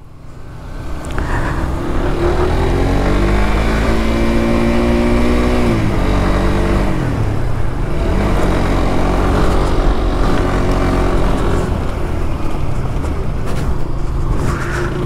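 A new motorcycle's engine drones loud and close while riding, holding a steady note that dips and rises as the throttle shifts.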